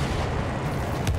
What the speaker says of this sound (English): It's that main cannon on the front.